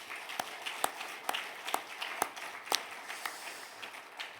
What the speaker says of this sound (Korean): 우리 남성 트리오에게 우리 격려의